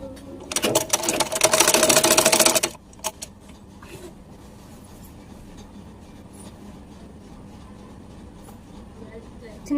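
A sewing machine runs fast and loud for about two seconds while stitching silk saree fabric, then stops, leaving quiet room noise and faint clicks.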